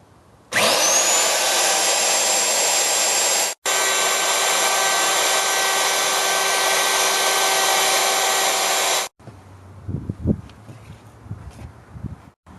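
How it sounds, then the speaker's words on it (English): An electric router cuts letters into a wooden sign, starting with a rising whine into a loud steady drone, a brief break, then more sustained cutting before it stops and leaves faint handling noises. "Start the router and then drop it into the wood."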